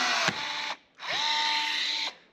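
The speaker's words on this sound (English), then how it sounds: "One-handed, not the way you're supposed to do this, but it's all right. My first ever rivet." A handheld riveter sets a rivet on a crashed Mercedes. Two close, motorized whirring bursts sound with a brief pause between them, and a sharp snap comes early in the first.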